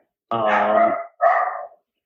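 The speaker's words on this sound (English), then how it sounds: "Got dogs barking, hyped up for Quintez Cephas." A dog barks twice in a quiet room, a longer loud bark followed quickly by a shorter one, close and alone with no talk over it.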